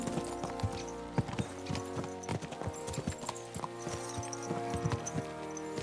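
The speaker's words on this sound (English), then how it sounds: "Let's really spur these horses on, eh?" Horse hooves clip-clop in a steady trotting rhythm in the video game Kingdom Come: Deliverance II, over a constant background of synthetic music and ambient tones.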